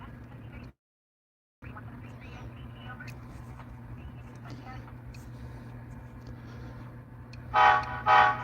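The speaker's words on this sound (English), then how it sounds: "This is a train" A Union Pacific train rumbles past on the Evanston Subdivision in a steady low roar, with a brief dropout early on and two loud horn blasts near the end.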